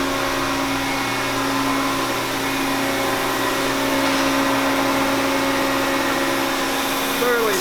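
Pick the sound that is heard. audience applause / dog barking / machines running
machines running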